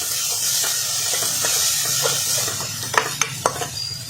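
White sesame seeds sautéed in a pan for green pea samosa filling give a steady close sizzle and hiss, with a few sharp scraping clicks of stirring near the end.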